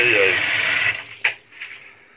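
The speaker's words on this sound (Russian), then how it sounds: "Течет прям с крана. Хорошая вода." Tap water runs into a sink, a steady loud gush for about a second that then stops, followed by a few faint drips and splashes.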